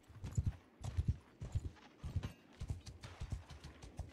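Horse hooves clip-clop at a steady walking rhythm in the Mount & Blade 2 Bannerlord game, about two paired hoofbeats per half second, fairly close and clear, with no talk over them.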